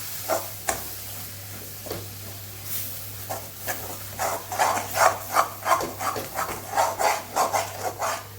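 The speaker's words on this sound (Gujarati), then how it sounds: "લોટને સરસ આપણે મિક્સ કરી લેવાનો છે." Flour being stirred into cooked fenugreek greens in a pan, a series of scraping, rubbing strokes that start sparse and become a quicker rhythmic run of spoon scrapes over a low hum.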